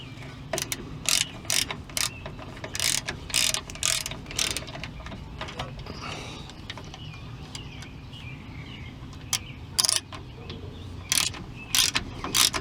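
A 1/2 inch ratchet clicks in quick bursts while snugging up the front shock bolts on a Ford F150, sharp close ratcheting strokes separated by pauses, with faint birdsong in the background.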